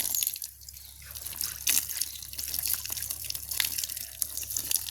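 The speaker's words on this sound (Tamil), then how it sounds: "நாங்கள் வாழைத்தண்டை தண்ணியில் கழுவுவோம்" Banana stem washed by hand in water, with close splashing, dripping and trickling that comes in uneven bursts over a few seconds, no speech.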